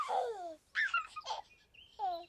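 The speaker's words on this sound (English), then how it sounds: "The Teletubbies Baby sounds like this." Teletubbies baby babbling and giggling, short high-pitched cooing and laughing bursts separated by brief pauses, close and clear with no other voices.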